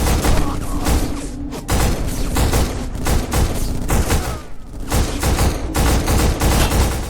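Rapid bursts of automatic gunfire from a firefight in the video game Black, loud and close. The shots come in repeated volleys with short gaps between them, alongside thuds and booms.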